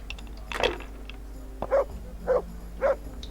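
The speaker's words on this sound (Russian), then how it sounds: "кормите кто-нибудь эту собаку, задолбала лаять." A dog in the video game Kingdom Come: Deliverance barks four times at moderate distance, a sharp first bark followed by three evenly spaced, muffled woofs over a low steady background hum.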